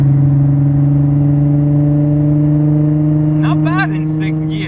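An Infiniti G35 fitted with test pipes cruises in sixth gear, its exhaust giving a loud, steady, low droning hum that holds an even pitch, with a brief higher chirping sound near the end.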